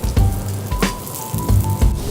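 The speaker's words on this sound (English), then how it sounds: "we'll sear really hard right in that fat" Beef and heirloom tomato sear hard in rendered beef fat, giving a loud, crackling sizzle that swells in several uneven pulses and spatters close up.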